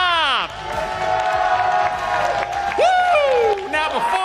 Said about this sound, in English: One more round of applause for your winners